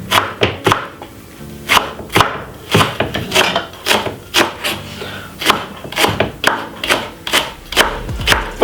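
Knife chopping spring onion very finely on a wooden board, a steady run of close, crisp thuds and taps repeating roughly every half second with no talk.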